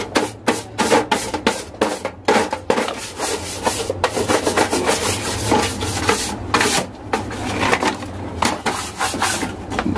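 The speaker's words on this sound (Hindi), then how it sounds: "पहले थोड़ा सा इसको हम झाड़ू मार देते हैं इसके ऊपर।" A broom scrubs dust and dirt off a dirty KDK exhaust fan in quick repeated dry rasping strokes, close and fairly loud, with short pauses between bursts.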